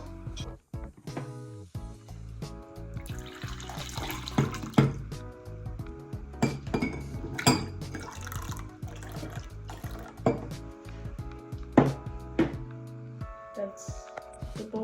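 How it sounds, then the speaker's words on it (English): Half and half poured into cups of brown sugar tea while making boba milk tea, a liquid trickle with drips and light clinks of cups, mixed with background music and some talk. "Pour this to make it milk tea, although this is half and half."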